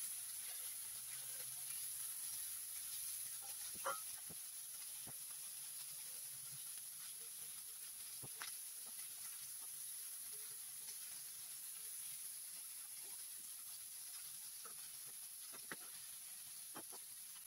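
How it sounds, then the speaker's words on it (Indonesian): Steady broadband hiss and sizzle of chicken wings frying in hot oil, with occasional sharp pops and crackles scattered throughout, no voices. "goreng sayap ayamnya sampai kedua belah sisi kuning kecoklatan"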